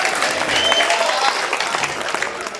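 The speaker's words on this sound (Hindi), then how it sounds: "कहूँ आपकी तरफ से तो फिर तालियों से समर्थन तो करो।" Audience clapping at a Hindi poetry recital, a dense, sustained round of applause from a crowd, loud at first and easing slightly toward the end.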